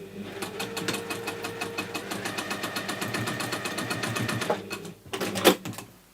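A sewing machine stitching a fabric cover with ties, running in a steady fast mechanical chatter for several seconds before slowing, with a few sharper clunks as it stops.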